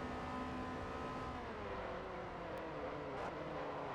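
A car engine in the racing video game Forza Motorsport 4 drones steadily and loud, its tone wavering as it revs, with a couple of brief clicks near the end.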